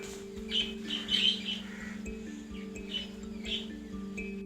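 Small pet birds chirp and tweet in short scattered bursts nearby on a winter morning over a steady low electrical hum.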